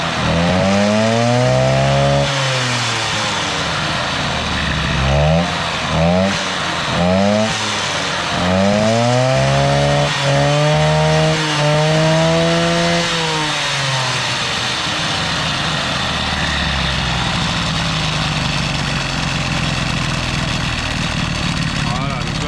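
A Peugeot 103 moped fitted with an Airsal 65cc T3 engine is revved repeatedly on its first start, its buzzing two-stroke note rising and falling in sharp sweeps, loud and close, with occasional talk over it.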